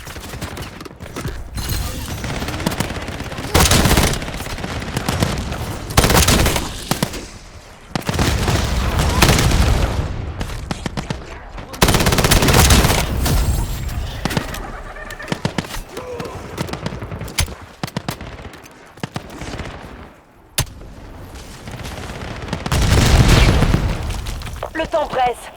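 The War Machine weapon firing in Call of Duty zombies mode, loud booming shots and explosive bursts in several heavy waves separated by brief lulls, with game voices talking between them.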